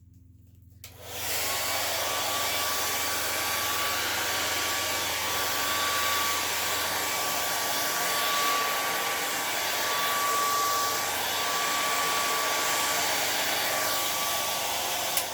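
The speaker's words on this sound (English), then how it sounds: "I'm going to take my blow dryer and I'm actually going to blend this all out onto the canvas" A hair dryer switches on and blows acrylic paint across a canvas with a loud, steady whirring hum that continues without a break.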